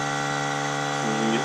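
An air compressor runs nearby with a constant, loud mechanical hum and whine, rising a little in pitch near the end.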